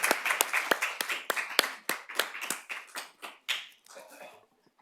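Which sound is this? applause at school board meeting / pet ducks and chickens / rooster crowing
applause at school board meeting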